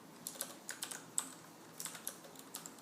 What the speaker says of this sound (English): So let's get them both typed out.